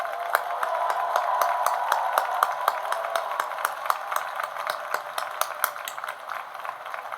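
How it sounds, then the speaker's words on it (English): A large audience at a commencement ceremony gives the graduating class of 2025 a long round of applause, with many individual claps crackling sharply above a steady, somewhat distant wash of clapping. "please join me in another round of applause for the class of 2025"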